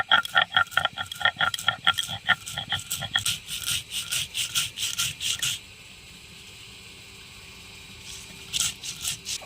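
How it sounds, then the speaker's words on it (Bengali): Poppy seeds and green chillies are ground by hand into a wet paste with a little water, giving quick rhythmic rubbing and scraping strokes that slow and soften, then pick up again briefly. "দিয়ে এবার অল্প করে জল দিয়ে আমি ভালো করে বেটে নেব"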